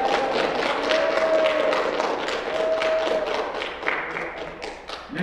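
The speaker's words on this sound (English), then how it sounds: "could we give Master Sergeant a round of applause for all that he's done for this program?" Applause for a Master Sergeant at a JROTC awards ceremony, a moderate crowd clapping in uneven bursts that thin out toward the end, with a brief voice partly over it.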